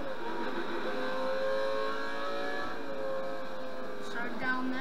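Car engine revving in the Need for Speed Most Wanted racing game, played with a steering wheel, a steady sustained drone with rising and falling pitch, continuous and fairly loud throughout.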